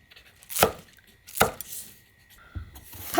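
Knife chopping vegetables on a board for cucumber kimchi: three distinct sharp chops spaced about a second apart, close and crisp in a quiet kitchen with no talk.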